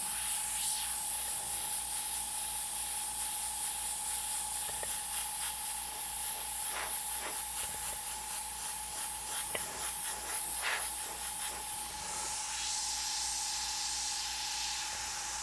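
An airbrush sprays light brown paint in a steady, continuous hiss, broken by a few brief taps and clicks, with a constant tonal hum running underneath and no voices.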